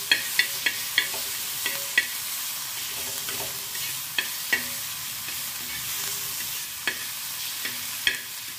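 Onion, tomato and chili fry in oil and butter for an omelette breakfast, a steady sizzle running throughout with a scattering of crisp spoon-against-pan taps and stirring clatters spaced irregularly across the pan.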